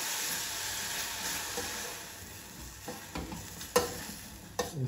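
Garlic, onion and chopped tomato sizzle steadily in a pan, a soft continuous frying hiss with a few brief clinks and stirring scrapes near the end, no voices.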